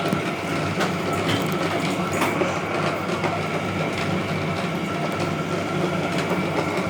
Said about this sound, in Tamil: பாருங்க, சூப்பராக ஸ்பீடாக அரைக்குதுன்னு நான் சொன்ன மாதிரியே